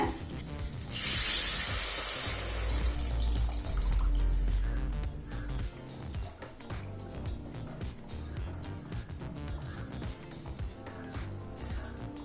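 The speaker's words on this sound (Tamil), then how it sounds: "ஒரு பெரிய எலுமிச்சை அளவு புளியை தேவையான அளவு தண்ணியில கரைச்சி இதுல சேர்த்துக்கலாங்க." Tamarind water is poured into a pan of spicy pidi karunai kara kulambu, giving a loud splashing pour at first that settles into softer sizzling and bubbling, with no voices.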